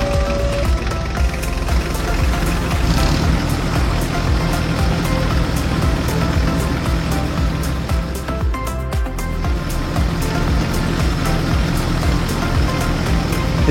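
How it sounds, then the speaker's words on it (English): A tractor pulling a potato planter drives steadily across a field, its engine giving a continuous loud drone with mechanical rattling throughout, heard alone without speech. "The tractor continues its steady path, and with every pass the field transforms."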